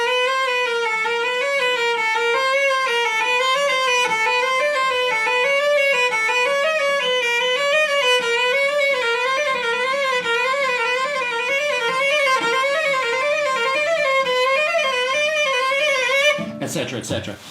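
Cello playing a spacing exercise, moving up and down through sustained bowed notes with a slight vibrato, steady and close for about sixteen seconds before a short noisy cutoff.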